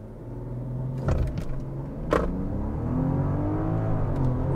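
Under full throttle, a 2023 Range Rover LWB P400 pulls hard through its eight-speed gearbox. A steady engine drone rises in pitch with brief shift breaks, heard from inside the cabin with no talking.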